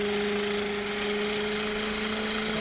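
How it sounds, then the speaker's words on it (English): A magnetic coil and rotor of a small electric generator setup spin steadily, giving a continuous loud mechanical hum with strong steady tones and broadband whir, unbroken throughout with no talking. "Now I'll take a separate magnetic coil and I'll have it spin, start,"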